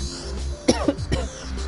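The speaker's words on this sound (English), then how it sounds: "I do apologise in advance about the cough." A person coughs in a few short, rough bursts, close to the microphone, over low steady background hum.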